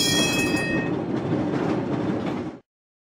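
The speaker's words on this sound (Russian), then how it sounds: "Великолепно. Трамвай." A tram rolls along its rails with a steady rumble and a brief high squeal at the start, close and continuous for a few seconds before it cuts off.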